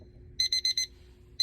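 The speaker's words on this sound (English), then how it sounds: "that 1 minute timer has gone off" A one-minute lab timer alarm beeps in a quick run of four shrill pulses, pauses, then starts again, loud and close over a faint low hum.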